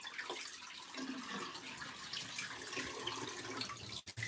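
Water from an LG ThinQ MEGA Ultimate washer gushes out through its drain hose, a steady broadband rush that runs near and continuous, briefly cutting out at the very end.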